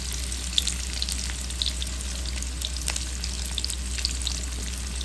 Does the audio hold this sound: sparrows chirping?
no